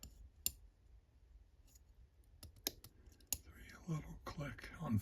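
Pins clicking faintly as a Master Lock EX series shrouded padlock is picked under light tension, a few soft isolated ticks spread across the clip, with quiet whispered speech toward the end.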